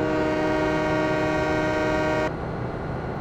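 Train horn in Farming Simulator 17: a steady, loud, harmonic blast that holds for about two seconds and then cuts off abruptly, leaving a quieter rumble of the train.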